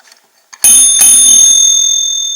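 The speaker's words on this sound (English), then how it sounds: "as soon as I hit that bell, this camera died" A bell in an old red schoolhouse is struck once, a loud close clang that rings on with sustained bright tones and fades slowly, after a few faint small taps.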